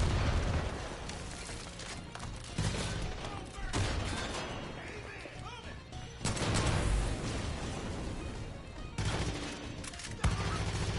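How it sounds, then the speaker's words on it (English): Rocket launcher blasts in Far Cry 5, booming explosions and crashes that rise and fall in several loud waves over a constant din of combat noise, with a voice speaking now and then. "I'll use the rocket launcher instead."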